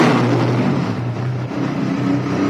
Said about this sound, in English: Come on then, let's do a bit of revving through here, shall we?